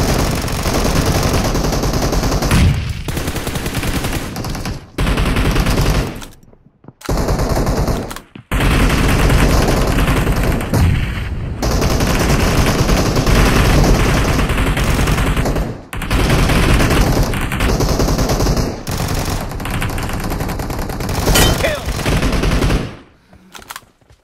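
Sustained automatic gunfire in the battle royale video game PUBG, loud and dense rapid bursts running almost continuously with a few brief gaps.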